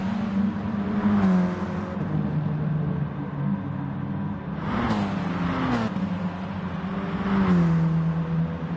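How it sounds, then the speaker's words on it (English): A race car's engine in GT Sport on the Blue Moon infield circuit, pushed hard and sounding tired: a continuous loud drone with rising and falling revs and a few sharp upshifts. "Really trying to push that car now for everything that it has."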